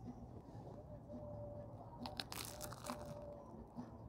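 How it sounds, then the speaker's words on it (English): Someone bites into thick, crunchy toasted bread topped with avocado and salmon at a San Diego seafood restaurant, making a short burst of crisp crunching and crackling over a low room murmur. "It's so crunchy, it's so thick."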